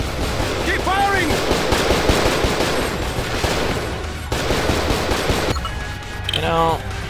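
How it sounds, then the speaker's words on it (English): Sustained rapid gunfire in the Cold Fear video game rattles on almost without pause, loud and dense, with shouted voices briefly cutting through the barrage. "Keep firing!"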